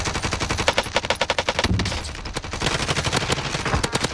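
Rapid automatic gunfire from the Call of Duty: Warzone video game, loud and close, with dense bursts of shots in a fast rattling rhythm that barely pause across the whole stretch.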